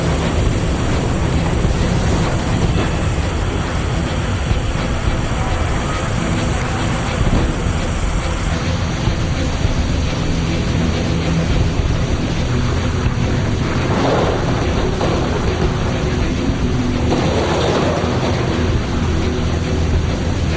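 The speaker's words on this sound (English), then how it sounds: "the river had become an uncontrollable torrent" Floodwater roaring through a river at the foot of a mountain in Saravetsa, swollen into an uncontrollable torrent; a loud, unbroken rush of water and wind fills the whole stretch without a pause.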